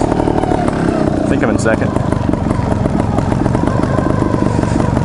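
A trials motorcycle engine revs loudly and continuously at close range while practicing on an obstacle, with the rider talking over the steady roar.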